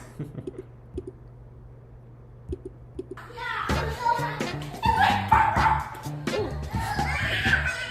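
A dog yips and whimpers in short bursts amid a busy household scene with kids and a new dog, starting faint and growing louder and more crowded with other sounds after a few seconds.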